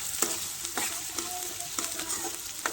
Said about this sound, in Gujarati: હવે ડુંગળી પાકે ત્યાં સુધી હલાવવાનું થાય છે.